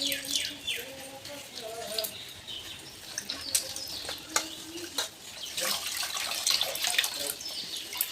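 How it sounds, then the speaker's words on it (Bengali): Leafy greens are washed by hand in a basin of water, with close splashing, sloshing and dripping sounds coming in uneven bursts over steady background noise, with faint chirping in the room. "জল দিয়ে ভালো করে ধুয়ে নিচ্ছি পাতাগুলো"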